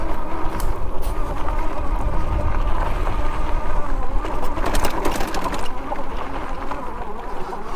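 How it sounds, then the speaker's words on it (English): Ghostcat F3 Pro e-bike climbing an off-road hill on throttle alone, with a steady motor whine and rough tyre and wind noise running loud and continuous throughout, with no voice. "let's see if it can climb this hill on throttle only"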